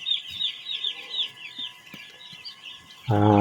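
A crowd of baby chicks peep constantly in high, rapid chirps close by, with faint thumps underneath, before a louder low tonal hum cuts in at the very end.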